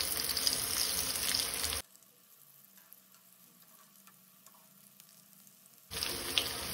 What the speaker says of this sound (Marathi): दोनी वाटल्यान बरी फ्राय करून घेवपाक जाय।